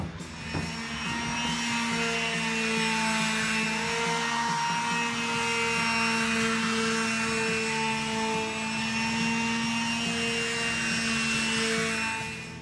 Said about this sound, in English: we got the sanding on the corner post done